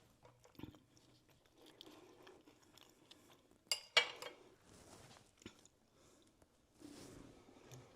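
Quiet biting and chewing on a leftover ham dish, with a sharp crunch or fork clatter midway and soft mouth sounds and cutlery taps scattered around it, close and faint.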